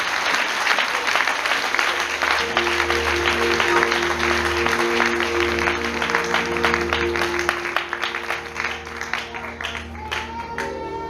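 A church congregation at a fasting service claps in sustained dense applause, with a sustained musical tone underneath. The applause thins slightly toward the end, and voices are faintly mixed in.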